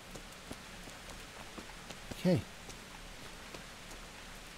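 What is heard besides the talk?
rain falling in the video game Kingdom Come: Deliverance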